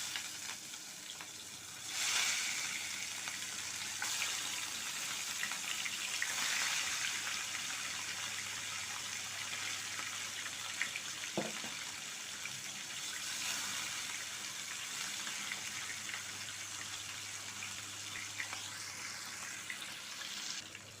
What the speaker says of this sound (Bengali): তেল গরম হয়ে গেছে, এবার আমি এক এক করে মাছগুলোকে ছেড়ে দেবো